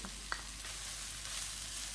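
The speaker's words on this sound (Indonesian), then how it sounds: "Masukkan jamur shiitake yang sudah dicincang, kita tumis dulu." Shiitake mushrooms and grated carrot filling stir-frying in a pan for vegetable dim sum, a steady soft sizzle with a couple of brief spatula scrapes near the start, close and alone.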